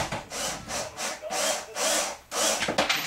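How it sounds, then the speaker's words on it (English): Holes are drilled into the airframe of a Revolver 50cc ARF RC plane, making loud raspy bursts in a steady rhythm of about six strokes, each with brief pauses between. "When drilling your holes, try not to go to the other side."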